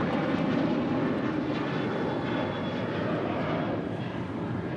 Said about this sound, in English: That is Alaska 1065 departing to Boise on a 737-900 ER.